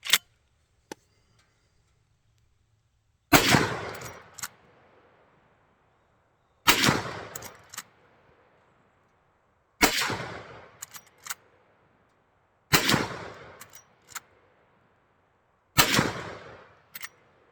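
Five loud rifle shots from a Henry lever-action in .44 Magnum, fired outdoors at slow, even intervals of about three seconds, each a sharp crack with a decaying echo tail, with no talking between them.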